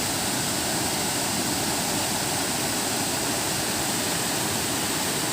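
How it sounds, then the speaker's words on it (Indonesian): Kedung Pedut waterfall in Kulon Progo, swollen in the rainy season, pours with a dense, steady roar that stays loud and unbroken throughout, with no voices. "dari sini kita bisa melihat aliran grojogan atau air terjun Kedung Pedut. Cukup deras sekali karena ini musim hujan"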